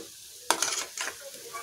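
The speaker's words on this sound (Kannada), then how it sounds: "ಹಾಗೆ ಇದು ನೋಡಿ ಫ್ರೈ ಆಗ್ತಿದೆ, ಚೆನ್ನಾಗಿ ಗೋಲ್ಡನ್ ಬ್ರೌನ್ ಬರೋವರೆಗೂ ಇದನ್ನು ಫ್ರೈ ಮಾಡ್ಕೊಳ್ಳೋಣ." Gulab jamun frying in hot oil, a sudden bright sizzle bursting in after a quiet start, then bubbling and fizzing in a couple of waves at close range.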